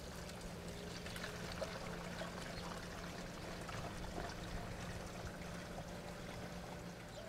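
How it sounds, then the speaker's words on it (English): Liquid is poured carefully into a garden pump sprayer, a steady, even trickling stream that runs unbroken and moderately close throughout, with no talking over it. "I'm going to pour this very carefully into my pump sprayer"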